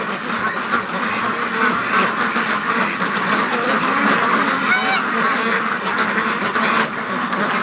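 Brant geese and ducks honk and quack together in a dense, continuous flock chorus by an iced-over creek mouth, loud and steady throughout with no talking.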